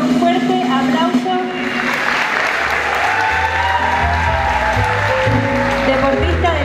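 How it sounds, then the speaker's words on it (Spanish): Loud, sustained applause from a dinner audience at a sports club's 93rd anniversary celebration, dense and continuous through the whole stretch, with music playing in the room underneath. "La recibimos con un fuerte aplauso."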